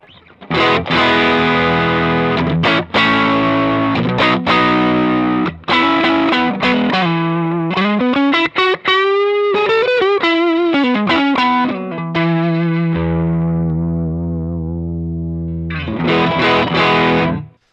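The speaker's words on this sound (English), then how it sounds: "it's basically just a straight up TS-808 tube screamer" Fender Stratocaster electric guitar through a TS-808 style Tube Screamer overdrive pedal, loud driven chords and single notes with mid-heavy crunch, including a bent, wavering phrase midway before chords return, played alone with no voice.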